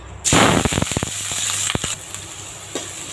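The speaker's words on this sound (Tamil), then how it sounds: "இப்போ எண்ணெய் சூடாயிடுச்சு. நம்ம கட் பண்ணி வச்ச வெங்காயம், பச்சை மிளகாய், கருவேப்பிலை போட்டுடலாம்." Sliced onion, green chilli and curry leaves hit hot oil in a pan for an egg podimas, giving a loud burst of sizzling and crackling pops that settles into a steady hiss, with no talking.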